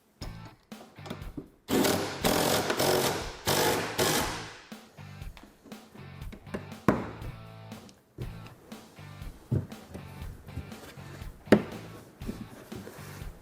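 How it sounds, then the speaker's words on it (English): Ratcheting and clanking tool work as bolts are tightened on brackets holding a rear cooler cargo box to the frame of a Textron Wildcat XX UTV; irregular close clicks and metallic taps, with louder bursts early on and no talking. "we're going to go ahead and tighten all of our bolts that secure the brackets to the frame of the machine"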